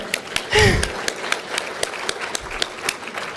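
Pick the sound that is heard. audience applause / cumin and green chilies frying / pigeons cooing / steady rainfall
audience applause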